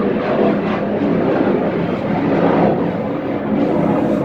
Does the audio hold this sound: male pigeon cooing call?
no